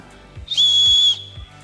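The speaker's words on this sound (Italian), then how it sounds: "c'è un altro piccolo accessorio, un fischietto" One loud, shrill blast from a trail runner's emergency whistle sounds close by in woods, held for about half a second over faint background rustling.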